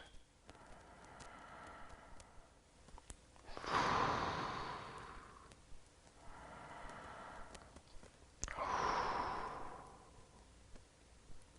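Slow, deep breathing during a head and neck stretching routine, with two long audible exhales roughly five seconds apart, each rising then fading, close and fairly quiet over faint background noise.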